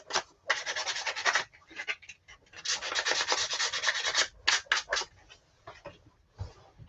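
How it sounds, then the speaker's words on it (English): Sandpaper rubs against a turned wooden knob spinning on a lathe, giving bursts of steady, close, raspy friction that stop and start several times, with no talk. "I can just do a little sandy sand on the nubbity knob"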